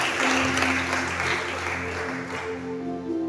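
A church congregation at a midday service breaks into sustained applause and cheering, a dense wash of clapping with a steady sustained tone running beneath it, loud and continuous throughout.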